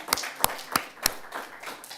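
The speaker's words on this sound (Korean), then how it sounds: "우리 하나님께 영광에 감사의 박수 올려드립니다" A church congregation claps during a Korean afternoon worship service, with four sharp, separate claps near the start followed by softer, scattered clapping that fades out.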